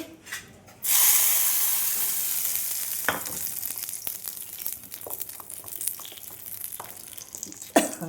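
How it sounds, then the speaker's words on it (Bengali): Hot tempering poured into a green chutney bursts into a loud, close sizzle that hisses on and slowly settles, with a few soft stirring clicks. "তো আমার এই তরকাটা চাটনির মধ্যে ঢেলে দেবো"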